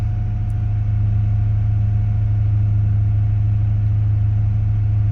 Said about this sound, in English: Looks like the engine's running at a bit of a higher RPM.